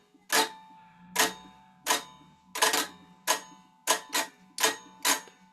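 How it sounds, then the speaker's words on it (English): Heavy strums on a guitar with muted strings, each one a sharp percussive clack of the pick dragging across the strings, about ten hits in an uneven rhythm, close and dry with no talking. "you can hear there's a bit of a clack of the pick going through the strings"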